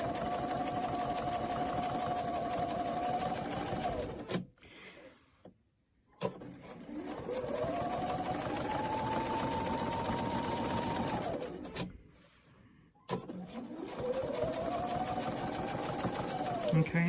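A sewing machine runs a quarter-inch quilt seam guided by a template, in three steady stitching runs of several seconds each, separated by short pauses, close and fairly loud.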